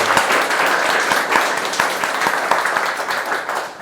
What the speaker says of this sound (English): Let's give a very big round of applause to our amazing panelists.